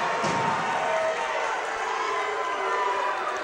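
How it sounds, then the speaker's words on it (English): A high school boys basketball crowd cheers and roars at a loud, steady level after an offensive foul, with an announcer's voice mixed in. "you hear the crowd"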